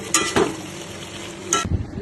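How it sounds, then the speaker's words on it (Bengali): Small katla fish fry in hot oil with a steady sizzle, broken by a few sharp scrapes and clatters of a utensil stirring in the pan. "এখন ছোট ছোট কাতলা মাছ ভাজা"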